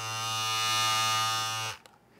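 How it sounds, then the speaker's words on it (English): A Philips Norelco Series 9000 beard and hair trimmer runs with a steady, even electric buzz for under two seconds, then switches off abruptly, close up with no talking. "That is the Philips Norelco Ultimate Beard and Hair Trimmer Series 9000."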